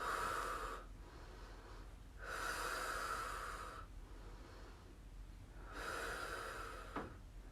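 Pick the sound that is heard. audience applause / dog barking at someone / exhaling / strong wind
exhaling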